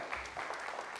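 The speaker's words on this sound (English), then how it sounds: "Don't applaud now, wait till the end" Brief audience applause at a lecture on militarized neuro weapons, a faint, short burst of clapping from a room of listeners.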